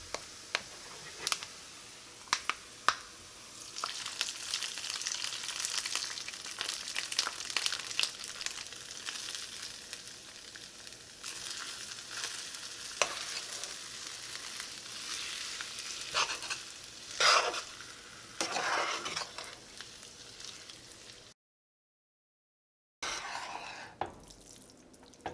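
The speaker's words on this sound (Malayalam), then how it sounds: "ഇതെല്ലാം കൂടിയിട്ട് ഒന്നുകൂടി നന്നായിട്ടൊന്ന് മിക്സ് ചെയ്യുക" Fried golden coconut pieces and ghee being stirred into pachoru, a sweet rice dish, giving a steady soft sizzle with scraping and clinking of the spoon against the pan, close up and with no talk, broken by a short silence near the end.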